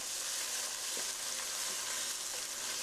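Ginger, garlic and tomato paste frying in a pan for chicken biryani, a steady close sizzle with faint scraping of a stirring utensil, no talking.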